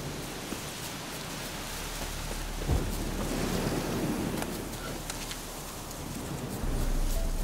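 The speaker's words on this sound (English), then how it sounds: "it's windy over here" Wind gusting across an outdoor area in The Witcher 3: Wild Hunt, a steady broadband rush that swells slightly midway and again near the end, with a brief thump at about three seconds.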